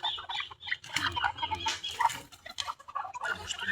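White leghorn chickens cluck and chatter busily at close range while being fed mango, a dense flock of overlapping calls with scattered sharper squawks.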